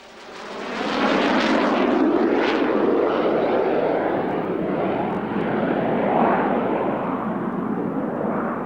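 A North American F-86 Sabre jet roars past at the Mildenhall Air Fete airshow. A loud, broad rushing roar swells in after the first second and holds steady, with no voices.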